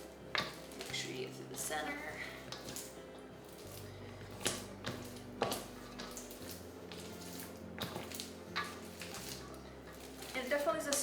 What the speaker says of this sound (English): And then we're just going to keep on stirring here once we get them covered.